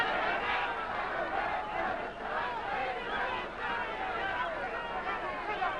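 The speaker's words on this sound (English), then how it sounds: "Napoles getting some encouragement from the crowd, and needs it." Boxing crowd at a 1975 title fight cheering and shouting encouragement for Jose Napoles, a continuous roaring babble of many voices rising and falling throughout.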